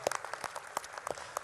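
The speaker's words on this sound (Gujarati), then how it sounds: "બે જવાબદાર તેજસ દવે અને અનિલ ચાવડા માટે ખૂબ જોરદાર તાળીઓ હોવી જોઈએ" Sparse, quiet clapping from an audience at a Gujarati poetry event in Ahmedabad, honoring poets Tejas Dave and Anil Chavda, with a few separate claps at uneven intervals rather than full applause.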